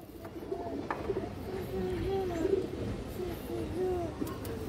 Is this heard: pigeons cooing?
yes